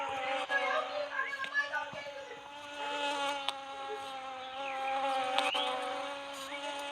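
A video game bee buzzes continuously at close range, its drone wavering slightly in pitch, with faint voices in the background.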